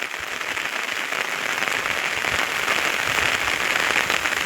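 A downpour drums on flooded rice fields in a village, a continuous close wash of rain noise with scattered sharper drop impacts, no one speaking.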